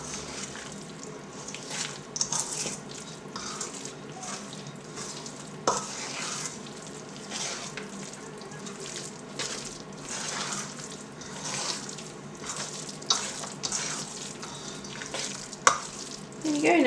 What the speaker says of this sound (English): And again, just gently Stir that so it's all incorporated.